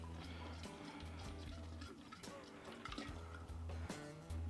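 Water pouring into a flask over dry malt extract while homebrewing, a continuous splashing, gurgling stream with small clinks, close and steady throughout.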